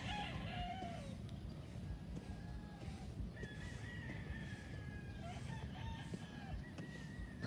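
Roosters crow repeatedly across a breeding farm, several calls overlapping at near and middle distance over a steady low rumble of farmyard noise.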